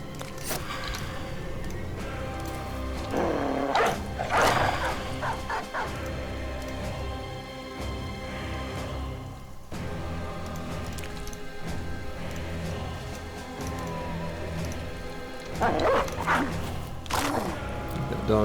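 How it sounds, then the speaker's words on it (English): Dog barking and yipping with whimpering in a tactical video game, with several short bursts standing out at intervals over steady game music and background sounds. "That dog will be just fine."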